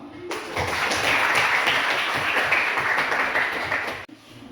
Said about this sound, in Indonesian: Jadi aplaus buat kita bersama